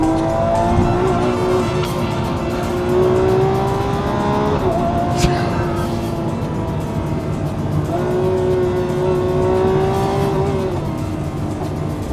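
A Lamborghini V12 car driving: a loud, continuous engine drone that rises and falls in pitch as the revs shift, heard close and alone without talking.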